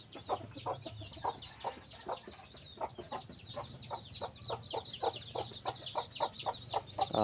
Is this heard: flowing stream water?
no